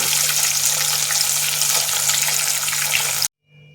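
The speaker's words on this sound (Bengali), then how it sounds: "আবার এখন আমি এইগুলো দিলাম, এগুলো একটু ভেজে নেব" Pieces of rohu fish fry in hot oil in a kitchen pan, giving a loud, dense, steady sizzle and crackle close up that cuts off sharply near the end.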